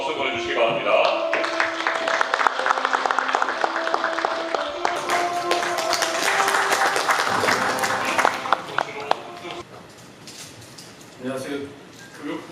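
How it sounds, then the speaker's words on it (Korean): Applause from the audience at a forum held in the National Assembly, steady dense clapping that carries on for several seconds with some tonal sounds and voices over it, then thins out and fades toward the end. "좋은 박수 보내주시기 바랍니다."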